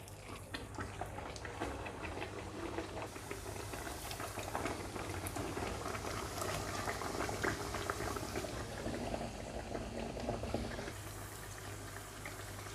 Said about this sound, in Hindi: अब इसके अंदर कचौरियाँ फ्राई करते हैं।